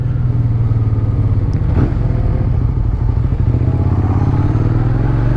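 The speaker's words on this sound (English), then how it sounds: "that sweet sound of an SV650" A 1999–2002 Suzuki SV650S motorcycle idles steadily and loud up close, its V-twin engine thrumming in a constant low rumble with a slight clatter and no voices over it.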